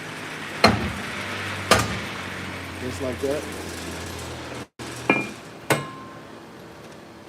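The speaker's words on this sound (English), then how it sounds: "let me get a little hammer to tap that." Sharp metal hammer strikes knocking a brake shoe loose, several loud separate blows spaced across the moment, with someone briefly talking between hits.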